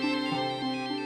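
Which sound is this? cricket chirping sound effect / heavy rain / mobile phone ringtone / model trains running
mobile phone ringtone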